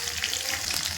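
Curry leaves, green chillies, garlic and cumin frying in hot oil for kadhi make a dense, loud hiss that sputters continuously through a brief moment.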